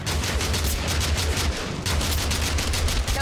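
Rapid, loud shotgun blasts in the battle royale video game Totally Accurate Battlegrounds, fired close in quick succession with a short pause in the middle.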